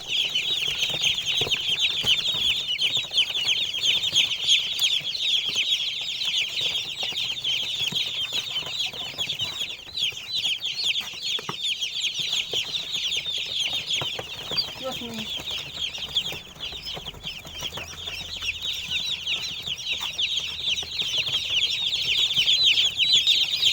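Many hungry young chicks cheep continuously and closely before feeding, a dense, shrill, unbroken chorus with brief scuffling, steady in loudness and no clear talk over it.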